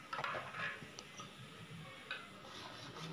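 Cooked, mashed dal stirred into simmering sambar in a pot: soft, faint scraping swirls with a few light metallic clinks of the spoon against the pot.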